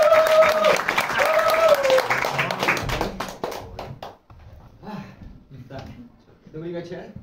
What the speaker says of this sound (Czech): dámy a pánové, vás poprosím o opravdu velký potlesk